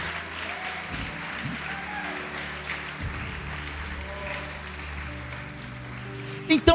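Church congregation applauding during a sermon, a steady wash of clapping with tonal voices or music running underneath, moderately loud and continuous.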